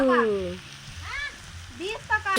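Goat meat sizzles and fries in a pan on a gas stove, a steady crackle running beneath a person talking throughout.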